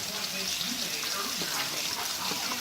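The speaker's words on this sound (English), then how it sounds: "So I let the bacon render a little bit, let the fat render out. Now I'm just gonna add the onions." Onions fry in rendered bacon fat in a pan, making a steady, close crackling sizzle throughout, with a voice speaking quietly underneath.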